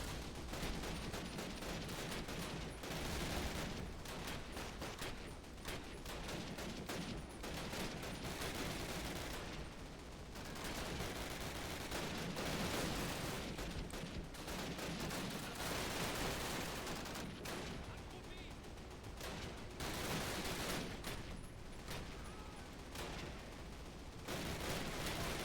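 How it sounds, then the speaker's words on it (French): Anti-aircraft guns in the Call of Duty (2003) Normandy campaign fire in rapid, dense bursts, a loud continuous barrage of overlapping shots and blasts with brief gaps between volleys. "C'est pas des miniguns, c'est des canons anti-aériens,"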